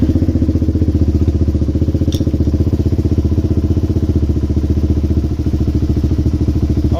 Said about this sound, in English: Always has a higher idle when you adjust that fuel screw